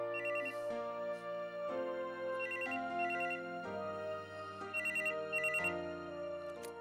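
A telephone rings with a melodic electronic ringtone, repeating chime phrases in a steady rhythmic pattern, clear and alone at moderate volume.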